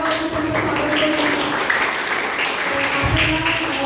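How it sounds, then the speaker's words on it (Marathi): An audience at the inauguration ceremony of a carrom doubles tournament claps to welcome the chief guest, a moderate, fairly even patter of hands lasting a few seconds with some voices mixed in. "सगळ्यांनी टाळ्या वाजवून त्यांचं स्वागत करूया"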